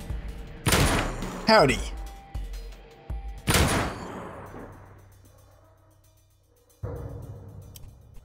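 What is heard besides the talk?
shotgun firing in video game Dead State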